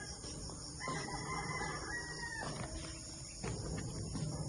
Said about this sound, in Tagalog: ang dami pang manok dito puro manok